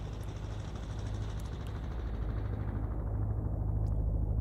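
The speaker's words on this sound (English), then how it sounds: "Okay, now it sounds like a helicopter." A lawnmower sample, pitched down and filtered in a synthesizer, gives a steady low rumbling drone with a fast rhythmic chop like helicopter rotor blades, continuous and moderately loud throughout.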